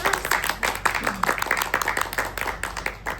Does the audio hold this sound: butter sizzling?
no